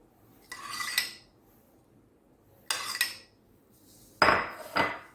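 Metal utensils clink and scrape against a bowl in three separate bursts while an apple salad is tossed with its dressing, each bout close and crisp with quiet gaps between.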